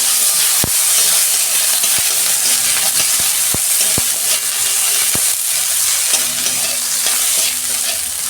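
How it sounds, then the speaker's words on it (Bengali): Small white brinjals fry in hot oil in a kadai after fish, a loud, close, continuous sizzle with sharp spatters and occasional clicks of stirring, no talk. "ওই তেলেতে আমি বেগুনটা ভেজে নিচ্ছি।"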